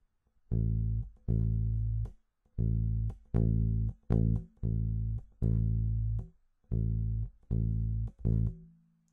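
A bass guitar plays one repeating dotted-quarter-note rhythmic pattern, then a slightly different one ending with an extra note, clean and solo.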